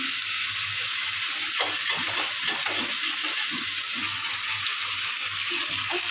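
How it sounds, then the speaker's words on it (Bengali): Garlic paste fries in hot oil in a pan, a steady, loud hissing sizzle with scattered crackles and occasional stirring scrapes, continuous throughout and free of speech. "রসুনটা একটু ভাজা ভাজা করতে হবে তেলের সাথে।"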